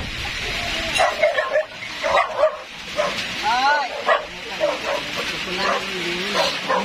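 A dog yips, whimpers and barks repeatedly in short excited bursts, close by, mixed with people chatting over it.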